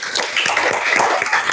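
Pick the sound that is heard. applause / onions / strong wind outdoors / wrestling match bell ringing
applause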